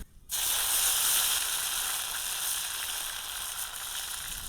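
Chili paste drops into hot oil for a tempering of cumin, red chilies, bay leaf and star anise on a village clay stove. It bursts into a loud, close sizzle that hisses on steadily and then eases slightly.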